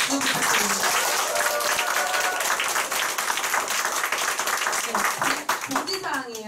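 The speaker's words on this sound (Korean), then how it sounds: "큰 박수 부탁드립니다" A crowd applauds the speakers at a group meeting, dense clapping with some whoops and a voice or two over the top, continuing throughout.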